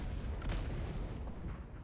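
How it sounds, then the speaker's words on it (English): A harbor cannon fires in a naval roleplay video game, one muffled distant boom over a continuous low rumble of background noise, faint and brief. "that one was a harbor cannon, I think."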